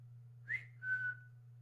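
A person whistles to a puppy: two short, clear whistled notes, the second held longer and falling slightly, faint over a steady low electrical hum.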